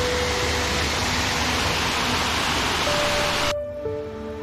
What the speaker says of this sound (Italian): il fiume in cascata